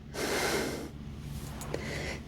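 A dog sniffs and snorts along the floor at close range, a steady run of breathy snuffling with a brief sharper snort near the end.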